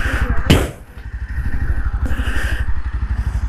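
Yezdi Roadster motorcycle engine idling close by at a showroom, a steady low rapid thump with a loud clattering burst near the start and a slight rise partway through, no voices.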